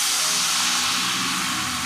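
Water hitting a hot pan of sizzling tofu, producing a loud, steady hiss of steam and sizzle that stays constant and close throughout.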